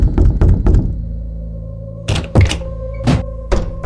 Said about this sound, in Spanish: Tocaron la puerta de la casa.